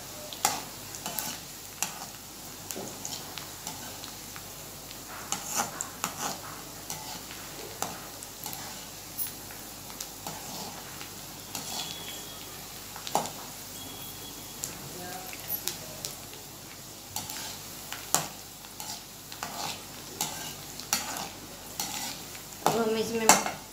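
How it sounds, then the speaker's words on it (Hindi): Onions browning in a pan, stirred with a utensil that scrapes and taps the metal in an irregular rhythm, over a soft, steady sizzle close by. "देखो थोड़ा ब्राउन होने लगी है प्याज"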